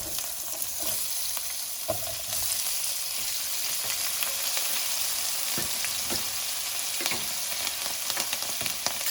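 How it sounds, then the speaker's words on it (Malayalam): Two sliced onions sizzle steadily in the same pan used for prawns, a dense continuous crackle with occasional stirring clicks, close and loud, no talking. "അപ്പോൾ അതിലേക്ക് നമുക്ക് ആദ്യം സവോള ഇട്ട് കൊടുക്കാം."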